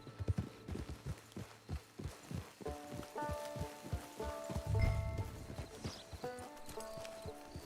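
Horse hooves clip-clop at a steady walking rhythm in Red Dead Redemption 2, close and distinct, with soft game ambience and faint tonal music underneath.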